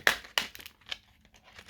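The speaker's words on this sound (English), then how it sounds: "Sorry for the noise of the plastic." Plastic packaging from an Inland Platinum 1TB NVMe M.2 SSD crinkles during unboxing, with two sharp close bursts followed by softer rustles, without speech.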